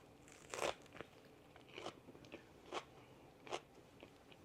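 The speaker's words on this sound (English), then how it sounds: "That was the crunch of the lettuce." Close crunchy bites into lettuce in a pre-packaged Japanese sandwich on fluffy bread with mayo sauce, about five distinct crisp crunches spaced a second or so apart, fairly quiet with no talking.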